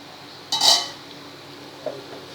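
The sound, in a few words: lid taken off a pot of cooking carrot sabzi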